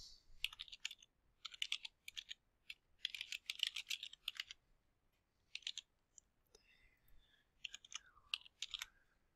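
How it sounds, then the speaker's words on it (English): Typing on a computer keyboard while entering a title into library catalog software, bursts of quick close clicks separated by short pauses, fairly quiet with no talking. "type in the title again"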